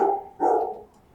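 Dogs barking near houses along a street, two sharp close barks a moment apart, loud against a quiet background.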